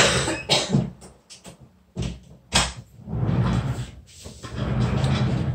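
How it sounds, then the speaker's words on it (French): A door being pushed shut indoors, giving a few close knocks and thuds along with bumping and rustling, then a longer stretch of steady handling noise. "Je vais devoir fermer ma porte"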